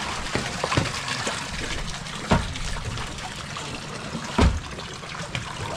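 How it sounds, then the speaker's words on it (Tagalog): Water draining from a removed engine water-cooling tube on a boat, a continuous trickling and splashing flow with a few louder gushes and knocks, close by and with no talking. "Naglabas na yung tubig."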